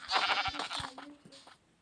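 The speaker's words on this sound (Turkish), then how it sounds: "Ha koyun. Ne kadar tatlı." A sheep in the video game Minecraft bleats once, a short wavering call heard up close, faint and alone.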